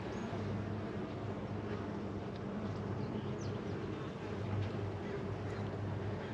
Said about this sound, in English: definitely some good bee activity in there